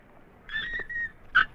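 A puppy whimpers in a Tamil romantic film, two thin high whines spaced apart over a quiet background.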